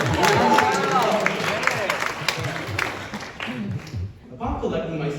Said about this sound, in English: Clap it up for